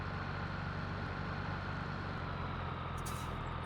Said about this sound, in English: Right, I'll park the tractor for a minute.